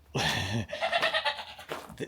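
A goat bleats loudly and close by, a wavering nasal cry followed by shorter, fainter bleats.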